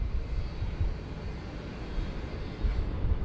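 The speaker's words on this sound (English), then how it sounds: "we've got KLM pushing back as well." A KLM airliner pushes back at Bangkok airport: a steady, distant low engine rumble that swells slightly toward the end, with no talk.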